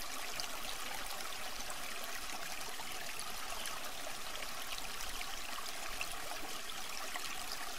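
Steady flowing water, like a stream or trickle, runs continuously at an even level from start to finish, with no voices.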